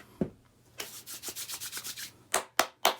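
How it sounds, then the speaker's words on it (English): Hands coated in divination oil rub briskly together close up, a quick run of rhythmic swishing strokes followed by a few separate louder rubs, with no voices. "I'll hit a bit on the third eye and just rub my hands"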